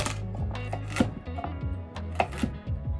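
Knife chopping celery into bite-size pieces on a cutting board, a quick irregular series of crisp taps and thuds, close and clear over a low background hum.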